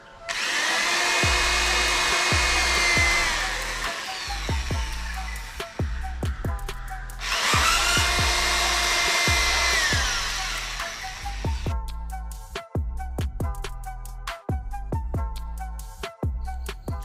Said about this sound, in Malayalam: നമ്മൾ ആദ്യം ഡ്രില്ലിംഗ് മെഷീൻ ഉപയോഗിച്ചിട്ട് ഹോൾ കൊടുക്കുന്നത്